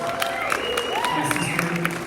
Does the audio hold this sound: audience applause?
yes